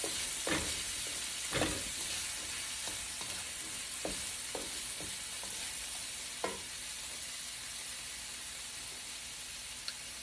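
Shrimp fried rice is stirred in a frying pan over a constant bright sizzle, with about a dozen distinct scraping spatula strokes in an uneven rhythm, close by and without talk.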